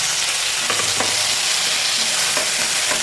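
Onions fry in a pan for a dry fish roast, with a constant loud sizzle and a few soft scraping stirs of a spoon, close up and without voices.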